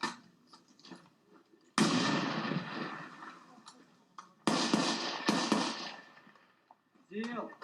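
A grenade blast during live-fire military training, heard as a sudden loud broadband burst with a long rumbling decay, followed moments later by a second heavy blast, with scattered voices and faint background noise between.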